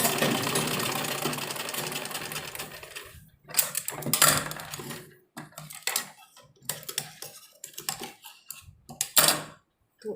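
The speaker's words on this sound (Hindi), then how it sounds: "इसको हम डबल सिलाई में कर लेंगे" A sewing machine runs a long continuous burst double-stitching piping on a suit, then breaks into short stop-start runs with pauses and handling clatter, close and fairly quiet, no talking.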